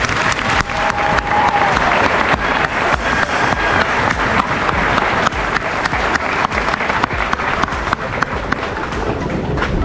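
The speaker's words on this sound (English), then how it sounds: "Please join me in a round of applause to thank the entire White family for Sergeant White's 20 years of dedicated service." Steady applause from a seated audience fills a military retirement ceremony honoring a sergeant's 20 years of service, dense continuous clapping from many hands.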